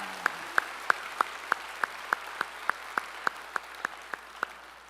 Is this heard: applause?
yes